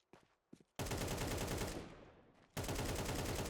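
AK rifle gunfire in Counter-Strike 2: a couple of short isolated shots, then two sustained bursts of rapid automatic fire, loud and close, the first burst trailing off slightly before the second kicks in.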